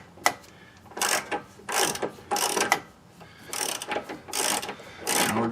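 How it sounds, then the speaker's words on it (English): A ratchet wrench clicks in several quick bursts as it works a seized toe link on a 2011 Ford Edge, loud and close in a garage with no talking. "Get the wrench on there."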